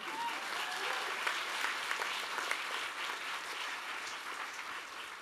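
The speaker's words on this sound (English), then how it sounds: "give yourselves a special round of applause just for achieving that" An audience at a university graduation ceremony applauds, a dense, even wash of many hands clapping held at a steady level throughout, with no speech over it.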